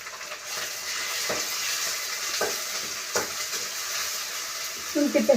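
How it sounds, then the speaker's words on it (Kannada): Onion paste fries in a pan with a loud, continuous sizzle broken by a few sharp scrapes of stirring, then a burst of clattering near the end. "ಈಗ ಈರುಳ್ಳಿ ಪೇಸ್ಟು"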